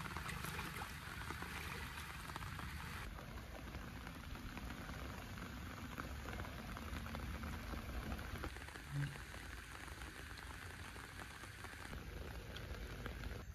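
Steady rain pours down outdoors during a rainy day of fishing, a dense, even hiss of drops on surfaces and water that stays constant and fairly near, with no voices.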